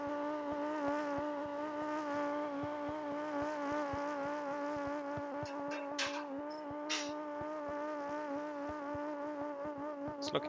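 A car engine in the BeamNG.drive driving game drones at a steady, sustained pitch, with rich harmonic tones throughout and a few brief clicks and knocks near the end.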